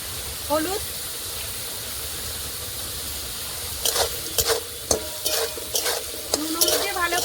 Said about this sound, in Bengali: নুন হলুদ দিয়ে ভালো করে লাল লাল করে ভেজে নেব।